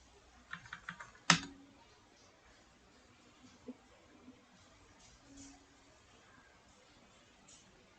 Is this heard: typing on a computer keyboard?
yes